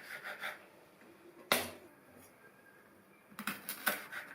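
Amaranth stems are cut near the root with a knife: one sharp crisp snip stands out, with softer rustling and scraping before and after, quiet and close.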